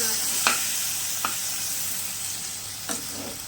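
Ghugni frying in a pan, stirred with a few sharp, separate scrapes over a soft, steady sizzle that stays close and fairly quiet.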